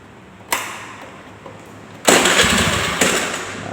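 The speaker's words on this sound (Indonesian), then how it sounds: "dan hidupkan mesin." A car engine with electronic fuel injection, its fuel pump socket disconnected to relieve system pressure, cranks and fires up. A loud broadband roar begins about two seconds in and keeps running after a few quieter clicks.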